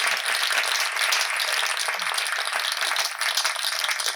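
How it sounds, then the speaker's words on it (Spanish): Sustained audience applause at a round-table event, many hands clapping in a dense, even wash that stays fairly loud throughout, with a few faint voices underneath. "les pido un fuerte aplauso a todos los presentes y híbridos"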